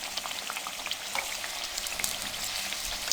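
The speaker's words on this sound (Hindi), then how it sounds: "लो फ्लेम पे इनको फ्राई करेंगे।" Potato cutlets fry on a low flame, an even, fairly quiet sizzle with scattered small pops and crackles, close by, with no voices.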